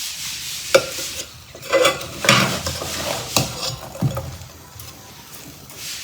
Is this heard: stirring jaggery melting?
yes